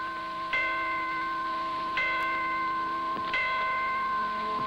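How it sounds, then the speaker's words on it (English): Clocks in Detroit chiming the hour, three resonant bell-like strikes about a second and a half apart, each ringing out clearly and decaying over a steady background. "As the clocks in Detroit chime"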